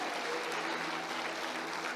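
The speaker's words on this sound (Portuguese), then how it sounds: "Você pode aplaudir ao Senhor" A church congregation applauds, a dense, steady patter of many hands clapping together at moderate distance, sustained evenly throughout without pause.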